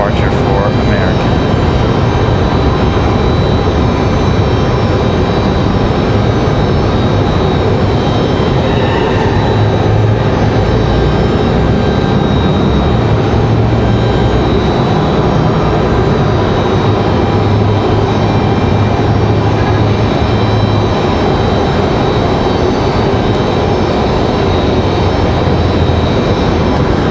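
An American Airlines jet airliner departing Raleigh-Durham International: a loud, sustained engine roar and rumble filling the whole stretch, steady and broad with a faint high whine on top, and talk heard over it.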